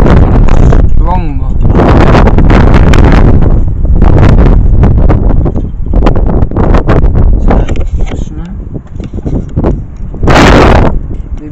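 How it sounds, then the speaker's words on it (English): Strong wind batters the microphone in heavy, booming gusts outdoors, loud rumbling bursts with a person talking intermittently underneath. "So, the wind is getting strong."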